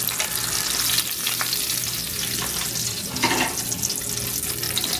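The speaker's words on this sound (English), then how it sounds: "And fry up the rest." Breaded green tomatoes frying in a pan make a dense, steady sizzle and crackle close by, with a few brief clinks and stirs on top and no voices.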